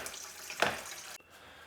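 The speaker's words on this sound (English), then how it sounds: "So I'm gonna add my water first." Water pours into a mixing container for homemade pizza dough: a short splashing pour that swells briefly, then stops abruptly, leaving quiet room tone.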